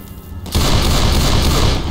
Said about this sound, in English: Try shooting some damn zombies instead of me.